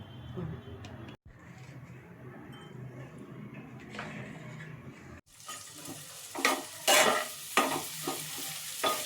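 Frying in a kitchen while a fish chop is being made, a soft sizzle at first, then louder bursts of hissing and stirring scrapes after a brief pause, heard close up, with a voice speaking faintly in places.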